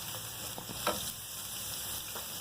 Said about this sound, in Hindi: अब हम इसके साथ ही डाल देंगे इसके अंदर ब्रोकली। इसको भी हल्का सा फ्राई करेंगे